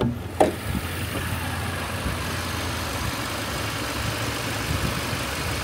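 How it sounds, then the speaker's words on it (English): A 2013 Mercedes C250 with a 1.8-liter four-cylinder engine and automatic transmission idles steadily under the open hood, a low, even hum with one brief click near the start. "Four-cylinder engine."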